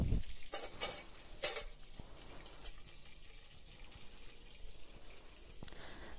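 Scaleless fish fries in hot oil with sharp crackling spatters and pops bursting over a low, steady sizzle, close and without talk.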